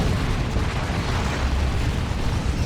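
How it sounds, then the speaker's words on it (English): Rocket launcher blast from a tier 3 battle in the real-time strategy game Dawn of War 2, a dense rumbling explosion that roars continuously at close range with heavy low-end boom throughout. "Rocket launcher power there."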